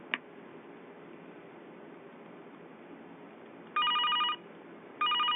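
An AT&T corded trim line phone on a test line rings in two short electronic bursts over faint line hiss, the second ring starting near the end.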